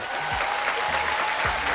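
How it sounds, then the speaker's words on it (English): A television news studio audience claps in a dense, even burst that holds at a constant level, with faint voices and low tonal sounds beneath it. "That deserves a round of applause."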